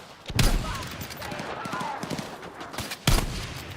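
Sniper rifle shots in Battlefield 6, two sharp loud cracks about three seconds apart, with softer game noise and scattered thuds between them.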